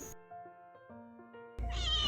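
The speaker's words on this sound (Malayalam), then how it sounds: "നമ്മളെ കമ്പനിക്ക് ഒരു കുഞ്ഞൻ പൂച്ചക്കുട്ടി ഉണ്ടായിരുന്നു അവിടെ" A small kitten meows several times in a row. The short, clear, tonal calls are close and fairly quiet, followed by a louder burst of noise at the end.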